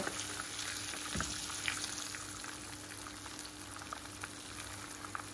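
Chicken strips frying in hot oil make a steady, dense crackle that fills the whole clip, with one brief deeper knock near the start as a strip is lifted out. No one speaks.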